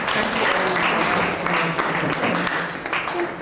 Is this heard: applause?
yes